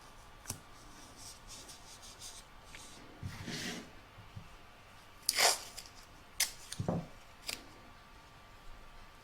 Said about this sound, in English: And I'm going to tape that in place as well, so that it's held nice and securely when it's stitched down.